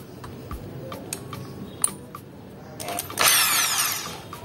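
Drill boring with an HSS 4341 titanium bit: faint ticks and clicks give way to a bright, harsh rush of the bit cutting in, louder toward the end.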